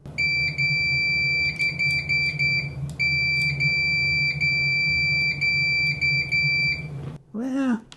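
Loud, steady beeps from a Fluke 289 multimeter on continuity test sound up close in repeated on-off bursts, some long and some clipped short, then stop as a voice briefly speaks at the end.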